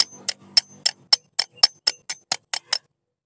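A hammer taps a car AC compressor shaft seal down into place, about eleven sharp, bright metallic knocks at an even, quickening rhythm, close and clear with no talk.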